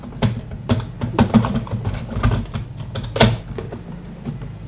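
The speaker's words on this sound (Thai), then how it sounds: "ปิดลงไปนะครับให้มันเสียงดังกึกนะครับ" A series of sharp plastic clicks and clacks as the cover of a Star TSP143IIIU receipt printer is closed, with a louder snap near the end, close up and with no talking.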